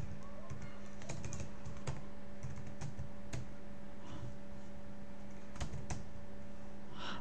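Fingers tap quickly on a computer keyboard, a close, dry clatter of irregular keystrokes with occasional louder presses, in a quiet room with a faint steady hum.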